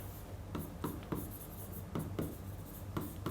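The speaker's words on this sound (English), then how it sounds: "Let me write it down." Pen on paper as an exam answer is written by hand: close, quiet scratching strokes in short bursts with brief pauses, no voices over it.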